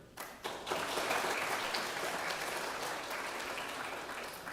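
Applause from an audience at a university matriculation ceremony, a dense wash of clapping that starts abruptly and holds steady at moderate volume.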